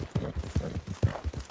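Horse hooves in Red Dead Redemption 2 clip-clop in a quick, steady rhythm of close, dull thuds, about seven beats in under two seconds.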